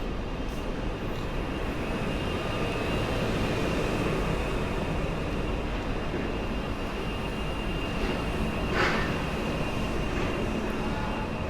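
An S2 rapid urban rail train pulling into Warszawa Zachodnia station during construction works, a continuous loud rumble with a steady high whine that holds evenly throughout.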